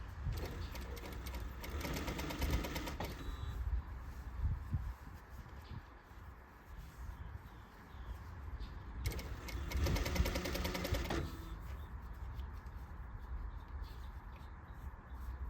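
Sewing machine stitching fabric along an inner concave curve, a close, steady mechanical whir that runs throughout and surges in two faster stretches, with no talking.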